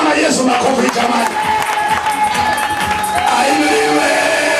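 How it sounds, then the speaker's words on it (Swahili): A church congregation claps and cheers for Jesus at a farewell service for a pastor, a dense, continuous crowd roar with whoops and shouts running throughout, voices mixing into the din. "Pigia Bwana Yesu makofi jamani."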